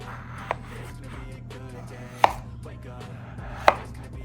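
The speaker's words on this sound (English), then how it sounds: "We diced the potatoes" Knife dicing potatoes on a cutting board for truffle mash, a few sharp, sparse chops spaced over a few seconds, close and clear against a quiet kitchen hum.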